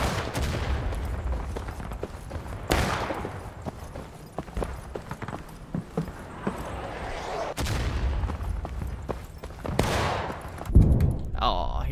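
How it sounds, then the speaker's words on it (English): Pistol shots ring out in the Civil War video game War of Rights, a string of sharp cracks at irregular intervals over a busy background of battlefield noise, with someone talking throughout. "A lot of pistol shots going here."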